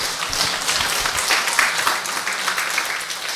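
A church congregation claps together in a dense, steady burst of applause that carries on for several seconds, filling the room.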